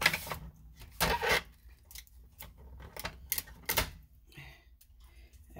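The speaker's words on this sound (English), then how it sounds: "and then I tape it" Tape is pulled and pressed around a skinny tumbler being readied for sublimation, giving a few sharp ripping and crinkling bursts separated by quiet gaps, close and fairly soft.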